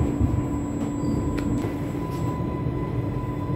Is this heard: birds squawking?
no